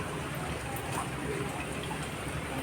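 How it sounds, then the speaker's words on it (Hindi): Light rain falls steadily, a soft even patter on surfaces outdoors, continuous and fairly close with no talk. "हल्की हल्की बारिश लगी है"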